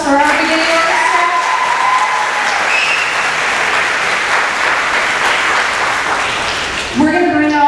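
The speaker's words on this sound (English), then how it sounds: "Can we have one more big round of applause for our beginning orchestra?" An elementary school spring concert audience gives a big round of applause for the beginning orchestra, loud, continuous clapping with voices talking at the start and end.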